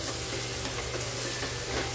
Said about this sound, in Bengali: গরম মশলাটা দিয়ে ভালোভাবে নাড়াচাড়া করে দেবো।